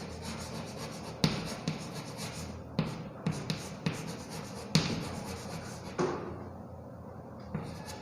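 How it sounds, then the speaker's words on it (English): Pencil scratching along a ruler on paper, soft rubbing strokes with a few sharp taps and knocks as the ruler and pencil are set down, close and fairly quiet. "Use your ruler to draw a neat line to divide the page."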